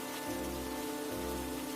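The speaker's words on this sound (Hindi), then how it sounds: "आकाश में बिजली की कड़क के साथ बारिश शुरू हो गई थी" Rain falling on a dark night in a cartoon story, a steady, dense wash of rainfall hiss with a faint low rumble beneath, continuous and even throughout.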